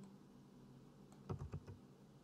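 Computer keyboard struck in a short burst of about four or five keypresses, the quick copy-and-paste shortcut strokes heard close and clear after a moment of quiet room tone, with no talking.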